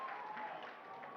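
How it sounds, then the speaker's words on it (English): A crowd roars at a live music performance, a steady, dense wash of cheering and clapping that holds at an even level throughout the short stretch. "Just listen to the crowd roar in excitement to see the revolution."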